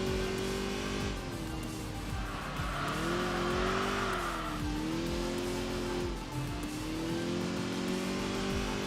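A racing car in the game Enthusia Professional Racing drives hard with a steady engine drone, rising and falling pitch as it shifts, and tires squealing through corners, continuous and close.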